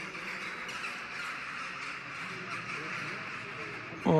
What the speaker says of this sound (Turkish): Vay, kuşlar çok güzel ya.